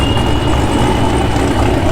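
Loud, steady idling of a high-performance Camaro engine with a rough, lumpy, choppy rumble, heard close by and continuous throughout with no talking.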